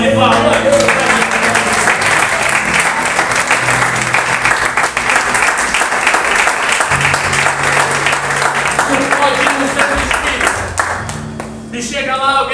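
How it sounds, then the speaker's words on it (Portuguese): A church congregation gives a long, dense round of applause at a worship service, with loud, sustained clapping that fills the room and tapers slightly near the end. "Se você quer ter uma boa salva de palmas."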